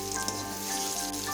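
Pointed gourd (potol) slices frying in oil in a kadai, giving a steady close sizzle with soft crackling throughout a short stretch.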